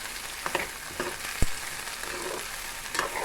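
Chopped capsicum sizzles in a pan while a spoon stirs it, a continuous bright frying hiss with a few soft scrapes and one sharp tap, close by and without talk.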